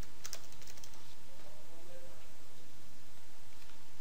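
Someone types a password on a computer keyboard, a quick run of clicking keys at the start that then fades into a quiet steady hum.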